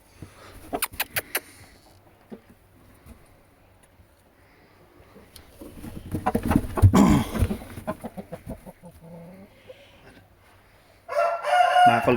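Chickens and roosters at a sale, with a rooster crowing loudly and close, and clucks and bird calls scattered around it amid background bustle.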